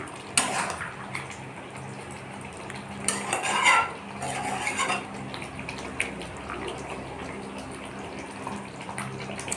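A spoon scrapes and clanks against a pot of home-style chicken and potato curry, with a few sharp metallic knocks and a louder clatter midway, over a quiet low background.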